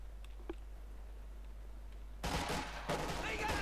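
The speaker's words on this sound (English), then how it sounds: "Drawing the enemy straight into this is the MG34. You're cutting down some Americans." An MG34 machine gun fires in a Company of Heroes 2 battle against American troops: after a quiet stretch with faint distant pops, a loud sustained burst of rapid automatic fire erupts and continues to the end.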